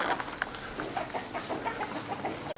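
Several chickens cluck in short, scattered bursts at moderate distance over constant outdoor background noise in a small hillside village in Sanjiang, China, with no talking.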